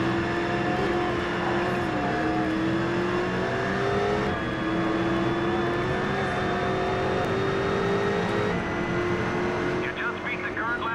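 A race car engine in the GRID racing video game drones steadily and loudly throughout, its revving note rising and dipping as the car shifts through the gears.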